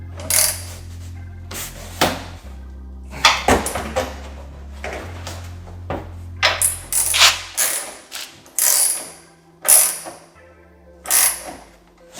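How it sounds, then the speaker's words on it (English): Ratchet tightening a strut brace bolt on an Audi, repeated close clicking and metallic ratcheting strokes in short bursts with pauses between them, with no talking. "Now I'm going to tighten it down."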